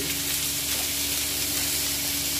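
Watermelon rind seasoned with salt and turmeric crackles in a pan while being stirred, a soft continuous sizzle with a hissy edge, heard close and fairly quiet.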